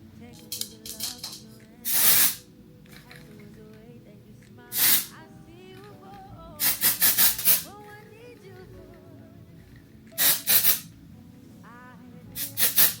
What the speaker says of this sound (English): This is their dry volume and texture spray.